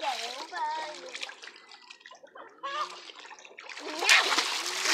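Water splashing in a pool where children play with balloons and pink dye, several bursts of splashing mixed with excited children's voices and squeals, close and moderately loud.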